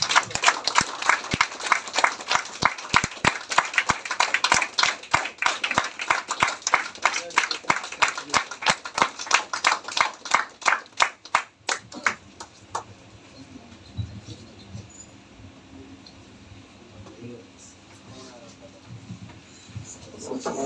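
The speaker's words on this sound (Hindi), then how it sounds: "जबरदस्त जबरदस्त तालियां होनी चाहिए सर।" An audience at a speech event claps in a rapid, steady rhythm for about twelve seconds, loud and close, before the clapping fades into quieter room noise and murmuring.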